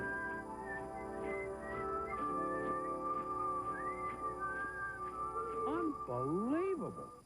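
The Grinch whistles a cheerful tune in an animated holiday special, a clear melodic whistle over a background music score that ends in a few rising and falling swooping notes.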